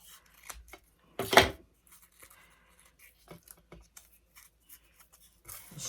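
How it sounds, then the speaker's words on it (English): Scissors cut crepe paper close by in one short crisp snip that crinkles the paper, followed by faint rustles and small paper sounds with no talk. "And then I'm going to cut this into 2 pieces."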